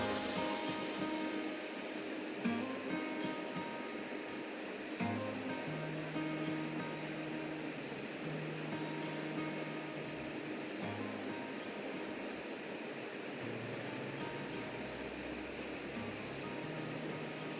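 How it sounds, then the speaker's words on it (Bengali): Food slowly frying in oil on a stove over low gas gives a faint, steady broadband sizzle and hiss that continues without a break. "এরপর এটাকে আমি এখন আস্তে আস্তে করে একটু ফ্রাই করতে রেখে দেবো।"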